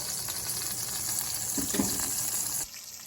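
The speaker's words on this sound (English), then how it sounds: "Had to fry it pretty long because it's so dang thick for it to get done in the center" Thick fish frying in a pan gives a steady, low-level hiss and sizzle with a few soft pops midway before the sound drops off.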